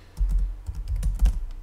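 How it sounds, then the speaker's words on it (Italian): Keys clatter on an unfamiliar computer keyboard during a Linux live session, a quick irregular run of clicks and thuds, close and fairly loud with no talk. "sono entrato in sessione live e non c'è la mia solita tastiera, devo stare attento a come scrivo"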